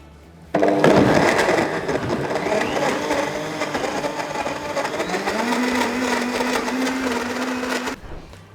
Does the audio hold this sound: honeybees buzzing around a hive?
no